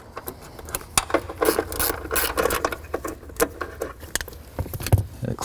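A hand ratchet clicks and rasps in uneven short bursts while two 10mm fasteners are backed out during a hood latch repair on a 1990-2001 Acura Integra or Honda Civic, close and moderately loud.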